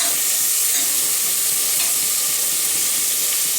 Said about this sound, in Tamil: உடம்புல தக்காளி போட்டுடலாம்